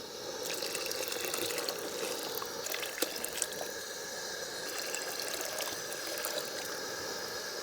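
Water runs and splashes steadily into a cooking pot of coconut milk for biryani, a continuous bright pouring wash with small drips and clinks on top, close by with no voices.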